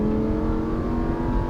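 Car accelerating hard on a racing circuit at Lohéac, a steady close engine drone with layered harmonic whine, no voices.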